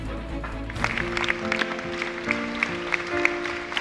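Mourners applaud at the memorial for former Uruguayan president José Mujica, a soft scattered clapping heard at a distance beneath a steady background murmur and faint tones.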